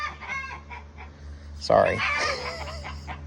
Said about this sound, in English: man, these chickens are fussy.